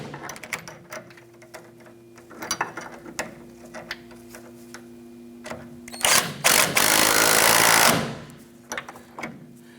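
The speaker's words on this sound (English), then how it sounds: "Now let's go ahead and tighten down our adjuster sleeve clamps here" A ratchet tightens the tie rod adjuster sleeve clamps on a 1994-2004 Chevy S10. Quick clicking pawl strokes come in short bursts, then a louder, longer run of ratcheting near the end, with nobody talking.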